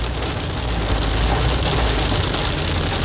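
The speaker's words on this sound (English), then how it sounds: "I haven't seen any rain like this in a while." Heavy rain pours steadily during a storm in Redlands, California, a loud, dense, continuous hiss of water with a low rumble beneath and no talking.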